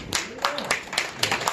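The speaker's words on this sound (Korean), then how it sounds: "박수 한번 쳐줘요" An audience at a Korean prayer-meeting gathering claps in a brief burst of sharp, repeated claps, with voices talking over it.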